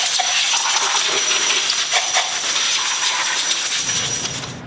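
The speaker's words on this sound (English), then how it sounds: "I'll get my blowgun out and blow away all the dust, dirt, small birds, rodents, whatever there might be underneath the hood" Compressed-air blowgun blasting dust from under the hood of a 2007 Hyundai Azera, a steady loud hiss of air running nearly the whole time with brief pulses and a drop-off at the end, no talking.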